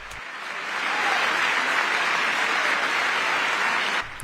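Members of Congress applaud in the chamber during a presidential joint-session address, clapping swelling within the first second into a sustained, loud wash before cutting off near the end.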